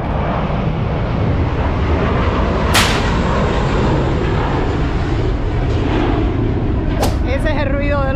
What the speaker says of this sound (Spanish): Ese es el ruido de los aviones